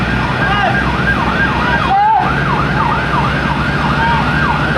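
Fire truck siren wailing near a house fire on a street, a loud continuous rising and falling tone over engine rumble with a brief dip partway through.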